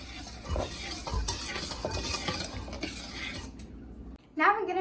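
Whisk scraping and tapping through pancake batter in a bowl, rhythmic clinks against the sides, stopping near the end before a voice speaks.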